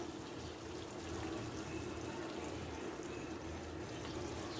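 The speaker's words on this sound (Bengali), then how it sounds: "আমি যে ময়দাটা জলের সাথে গুলে রেখেছিলাম ওইটা এবার দিয়ে দিব" Flour mixed with water is poured into a pan of ash gourd with spices, giving a steady, even rush of liquid and soft sizzle that holds for several seconds without pause.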